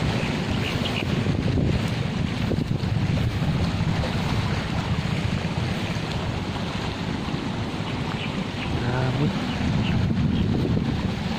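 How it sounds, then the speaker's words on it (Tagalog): Strong wind buffets the microphone in a constant roar at the coast in Mariveles, Bataan, with waves and water in the background and a voice speaking over it. "Grabe, lakas ng hangin dito."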